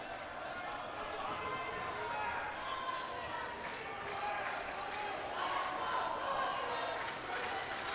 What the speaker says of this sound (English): the Let's Go Lions chant coming up in the Max Stern Athletic Center